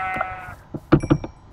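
Sheep bleating in the video game Minecraft, a few short close bleats in quick succession, clear and alone.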